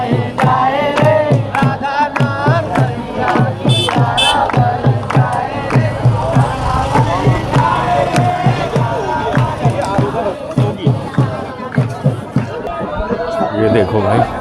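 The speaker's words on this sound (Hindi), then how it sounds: "ये भीड़ भाई 2 किलोमीटर तक है महाराज जी के कुटिया तक।" Dense crowd noise from devotees packed along a route during Holi celebrations in Barsana, continuous chatter and shouting with sharp rhythmic claps or beats throughout, and a nearby voice talking over it.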